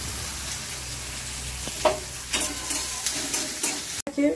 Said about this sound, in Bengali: পেঁয়াজকে আমি ভেজে নেবো, কুচি কুচি করে রেখেছি।